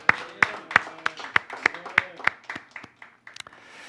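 A church congregation at a prayer meeting claps together in a steady unison rhythm, about three beats a second, the beat loosening and fading toward the end.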